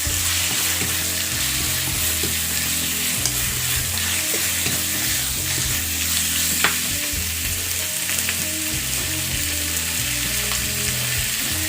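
Pork belly sizzles and crackles steadily in oil in a pan while it is stirred for a mixed vegetable stir-fry. The frying noise is loud and continuous, with no talking.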